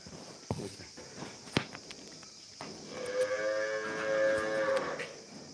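Cattle at a cow sale low and moo in a long, drawn-out call near the end, preceded by scattered hoof knocks and footsteps nearby, with no voices over it.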